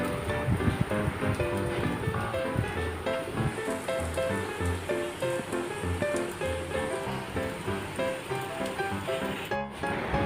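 Water pours steadily into a pot surrounding a covered caramel egg pudding mould, making a continuous splashing, gurgling rush for about ten seconds, fairly close and loud with no speech.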